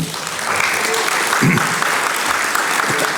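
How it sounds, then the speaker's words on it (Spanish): An audience at an environmental citizenship education event applauds a presenter, dense continuous clapping swelling slightly after the start and holding steady, with faint voices mixed in. "Un fuerte aplauso para él."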